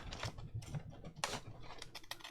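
Scissors or a trimmer cutting a thin strip from a 12x12 paper pad sheet, a run of quiet close clicks and crisp snips in an uneven rhythm, with no talk.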